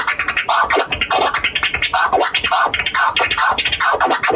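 A DJ scratches a record on turntables, pushing it back and forth in quick, regular strokes. Sharp, rising and falling swipes repeat steadily, loud and close, with no talking.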